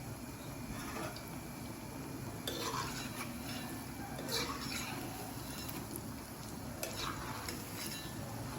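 Paneer masala sakkarpara made from wheat flour frying in hot oil, a steady close sizzle with stirring scrapes and occasional utensil clinks, no voices.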